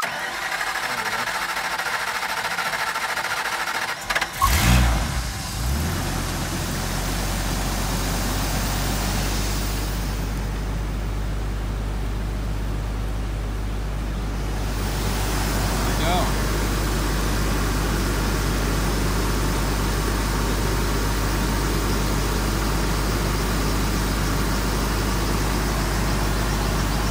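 A wind machine's engine cranks and catches after a short clatter, then settles into a steady low idle for warm-up at about 1170 RPM, loud and constant with no talk.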